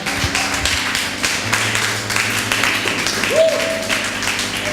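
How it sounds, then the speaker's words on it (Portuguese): A church congregation claps together in a dense, steady wash of applause, loud and sustained throughout, with a faint tone sounding briefly near the end. "Você pode aplaudir a Jesus bem forte, irmãos"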